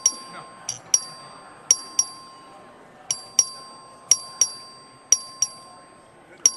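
Voting bell rung by the clerk in the Texas House chamber during a record vote, a series of about a dozen sharp, bright electronic dings in uneven pairs, each ringing briefly over a low room hum.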